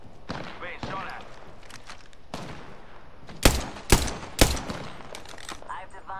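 Gunfire in the video game Apex Legends: three sharp, loud shots in an uneven burst over steady game ambience, with faint speech-like game voices around.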